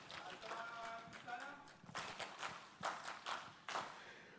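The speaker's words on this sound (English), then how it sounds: "Let's clap for ourselves." Conference audience members in Uganda clap for themselves, a thin, uneven scatter of claps that starts under a voice and then turns to a few sharp, separate handclaps, fairly quiet overall.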